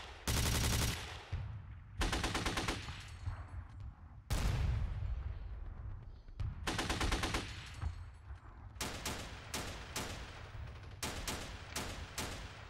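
Rapid bursts of machine-gun and rifle fire from the Steel Panthers war game, set in a 1980 Iran-Iraq battle: several loud clattering volleys in a row, then a string of shorter sharp shots.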